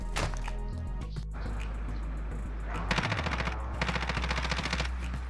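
Gunfire in the video game Warzone: loud rapid bursts of automatic fire, with a brief pause between a first and second volley, over a constant low game rumble.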